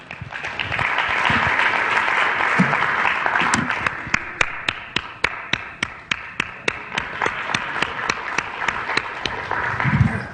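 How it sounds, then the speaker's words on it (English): An audience claps for a volunteer called up during a motivational talk on employees: a dense round of applause that thins into a few loud, evenly spaced individual claps near and distinct before fading. "Come on, give him a round of applause here."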